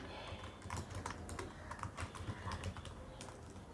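Steady, close clicking of a computer keyboard as tag text is typed into web page code, the keystrokes coming in a quick, uneven stream for several seconds.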